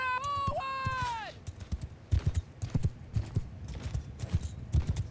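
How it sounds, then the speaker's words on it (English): Horse archers galloping in the video game Mount & Blade II Bannerlord, a dense run of hoofbeats pounding after a brief rising-and-falling call at the start, loud and rhythmic. "18 horse archers."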